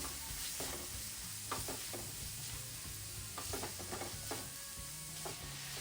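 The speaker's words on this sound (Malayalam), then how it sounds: "താളിക്കുന്ന സമയത്ത് കുറച്ച് ഉപ്പ് ചേർക്കാം. ഉപ്പ് ചേർത്തിട്ടൊന്ന് വഴറ്റാം." Chana dal, urad dal and salt sautéing in a tempering for oats rava idli give a faint, steady sizzle broken by several sharp scraping stirs, heard close with no talk.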